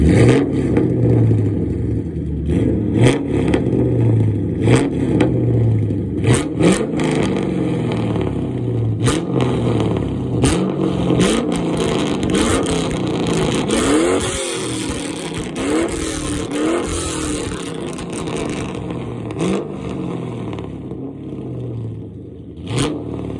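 A 2V Ford Mustang GT with a straight-piped exhaust revs repeatedly, loud and close, with deep rumbling bursts and popping crackles between throttle blips.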